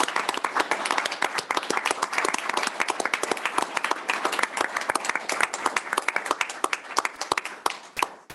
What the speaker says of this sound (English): So I would like to give them a nice round of applause and say congratulations.